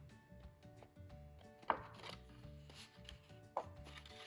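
Paper is cut for a handmade pop-up album with two crisp, quiet snips a couple of seconds apart, heard softly over gentle background music.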